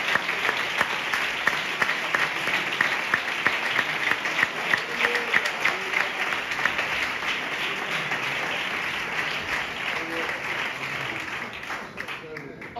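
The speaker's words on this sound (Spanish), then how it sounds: "Dale este aplauso a Dios por su abundancia." A church congregation applauds together in a sustained, dense wash of clapping that holds steady then gradually eases off near the end, with some voices mixed in.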